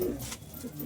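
Pigeons in a loft, including a Paschima Kalshira, give a soft, low coo or two close by, quiet and brief, with faint murmuring in the background.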